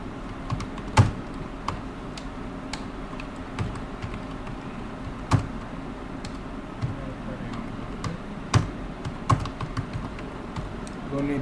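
A computer keyboard being typed on, with scattered, uneven clicks and taps over a steady background hum; the keystrokes come in short bursts with pauses between them.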